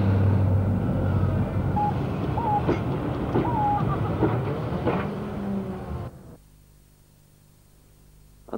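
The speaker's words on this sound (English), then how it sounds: "And that was the last train through Ledgate." A train rumbles and clatters through Ledgate station, loud and close with rhythmic wheel clicks and a brief squeal, then cuts abruptly to near silence as it passes.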